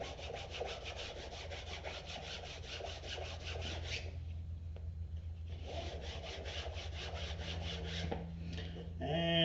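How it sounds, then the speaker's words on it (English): Canvas rubbed briskly back and forth over a leather edge treated with edge rub, a steady close rasping with a quiet pause midway before the strokes resume. "Now I'm just going to give it a nice brisk rub with some canvas."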